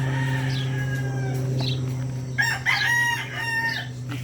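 A Hatch Grey gamecock crows loudly and close by, with a strain or two carrying over a steady low hum and some nearby clucking, and no speech over it.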